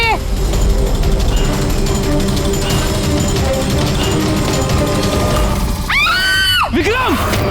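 A man's anguished scream rises in a CID crime drama scene, arriving as a few wavering cries near the end over a loud, constant clattering background.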